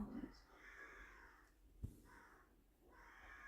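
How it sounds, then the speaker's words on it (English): Birds squawking outdoors, carried in through an open door, with harsh crow-like caws coming in a few bursts at moderate distance while a person talks indoors. "if you can hear all the squawking or whatever's going on out there"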